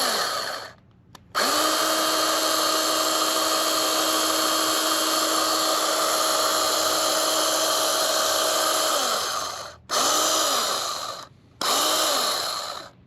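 A small power tool whirs steadily while tightening part of a mini cordless chainsaw, one long close run followed by two short bursts, with no talking.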